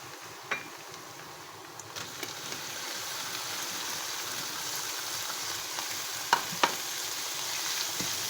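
Minced meat tips into a pan of garlic and ginger already frying in oil and sizzles steadily, close and continuous, with a few sharp clinks and scrapes of stirring.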